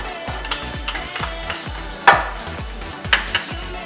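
Chopped mushrooms hit hot oil in a pan, giving a low sizzle over steady stirring with rhythmic scraping thuds and a couple of bright clinks of utensil on pan. The sounds are close and there is no talk.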